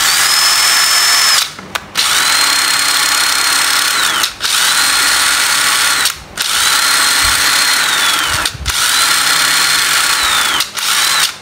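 A cheap used Japanese cordless battery drill whirs loudly and steadily at close range, its motor cutting out briefly four times before spinning back up, with no talking.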